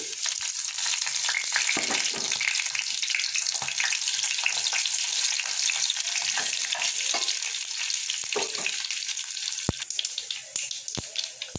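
Mustard seeds, split lentils, cumin, dried red chillies and garlic crackle and sizzle in hot oil for a tempering, a dense steady frying hiss with scattered sharp pops and occasional stirring clicks.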